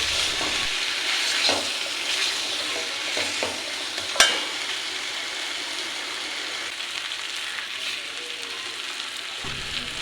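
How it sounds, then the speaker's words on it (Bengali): Pumpkin and potato are stirred through a mustard spice paste in a hot pan for a Bengali soybean and pumpkin dish, with a steady close sizzle, scraping strokes and one sharp clink of the spatula partway through. "এখন আমি কুমড়ো আর আলুটা দিয়ে সুন্দরভাবে মশলার সাথে মাখিয়ে নিচ্ছি"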